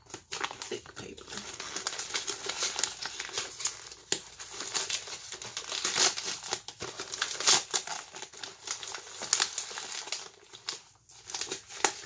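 Thick wrapping paper on a parcel sealed with heavy tape crinkles and crackles close up, in continuous irregular bursts with scattered sharper tearing rustles and no talk.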